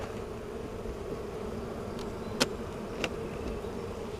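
Honeybees buzz in a steady, quiet drone as a hive is opened for inspection, with a couple of brief sharper sounds standing out near the middle.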